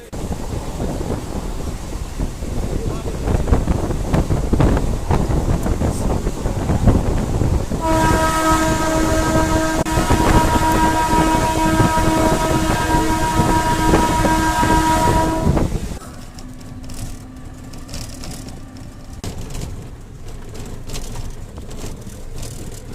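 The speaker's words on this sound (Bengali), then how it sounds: "এদিকে ট্রেনে উঠে পড়েছি, কৃষ্ণনগরের ট্রেন" A Krishnanagar-bound passenger train, heard from aboard: steady rumbling carriage noise, then a long, loud multi-tone horn blast for several seconds, followed by quieter rolling rattle.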